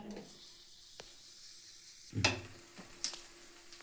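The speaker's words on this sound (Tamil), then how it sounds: "பேன் கேக்கை திருப்பி போட்டாச்சு" A banana pancake frying in oil in a pan, a faint steady sizzle with a few sharp scrapes and clatters of a spatula as it is turned, close and quiet, no talk.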